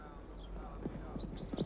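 Friendly horses moving nearby, a soft irregular clip-clop of hooves over a low background hum, fairly faint and brief.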